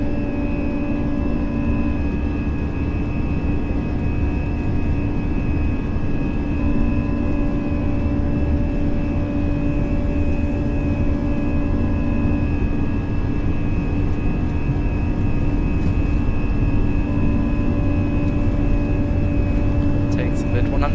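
Airbus A340-300 jet engines spooling at takeoff power in the X-Plane 12 flight simulator, a steady, loud, unbroken roar with a constant whine layered on top throughout.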